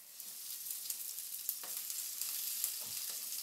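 Shallots and unsmoked bacon lardons frying in oil in a pan, a steady bright sizzle with scattered crackles and pops, close and continuous, with no voices.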